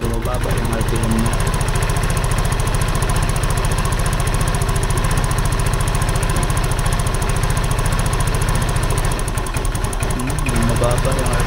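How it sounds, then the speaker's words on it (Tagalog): A Rusi RFI 175 motorcycle engine idles steadily and loudly close by after a sparkplug cap change, its rough, continuous rumble running throughout with the revs sagging. "pansin nyo ba yung bumababa yung RPM niya?"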